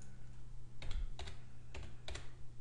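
Several key taps on a computer keyboard, entering a menu ID, in four close pairs of clicks over a steady low hum, with no talking.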